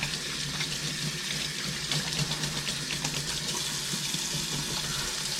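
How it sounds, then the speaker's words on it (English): Tap water running steadily into a sink while hands are washed, a continuous close splashing hiss with slight fluctuations, no talking. "I will wash my hands."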